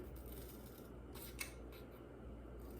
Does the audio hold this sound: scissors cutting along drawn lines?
yes